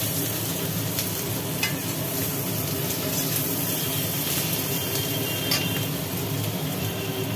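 Potatoes and onions fry together in a pan with a loud, dense, continuous sizzle. The crackle holds steady throughout, close and alone, with occasional faint scraping.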